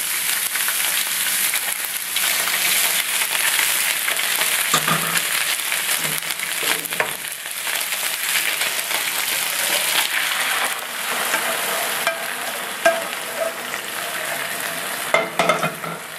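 Beef, broccoli and sauce stir-fried in a hot pan give a loud, continuous sizzle, with occasional scraping stirs near the end and no talking.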